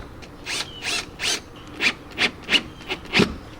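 Screw being driven down to fasten a cut, painted tie-down rail on an SUV, a series of about eight rasping, grinding bursts in an uneven rhythm, close and fairly loud.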